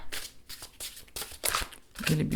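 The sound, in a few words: overhand shuffling a witchy oracle card deck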